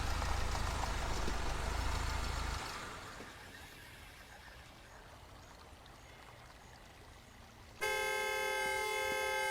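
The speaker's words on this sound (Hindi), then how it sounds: "आप हॉर्न बजा रहे थे।" A car horn sounds in a domestic drama scene, a loud sustained honk bursting in at the end after a stretch of quieter background noise.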